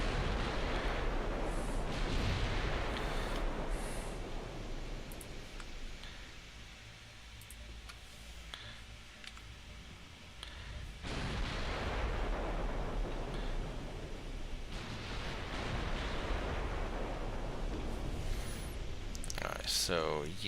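Heavy naval secondary guns boom repeatedly during a battleship engagement in the naval strategy game Ultimate Admiral Dreadnoughts, a dense rumbling barrage that dips midway and then swells again, with a voice talking over it.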